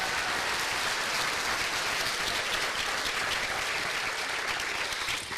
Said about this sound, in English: big round of applause for our Little Miss and Misters